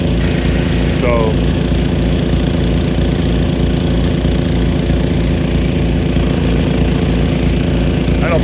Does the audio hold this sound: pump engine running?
yes